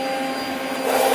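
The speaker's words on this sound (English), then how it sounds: "AC50 extractor, which is great for a lot of kind of benchtop machines like this" An AC50 dust extractor hooked to a benchtop woodworking machine runs with a steady, loud whooshing roar that swells slightly near the end, with no talking.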